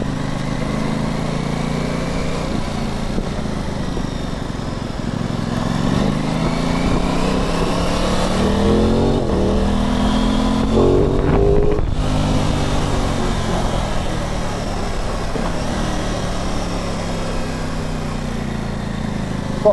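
An Aprilia Tuono 660 parallel-twin motorcycle with poor throttle response revs and pulls under acceleration, engine pitch sweeping up and down through gears, loud and close throughout.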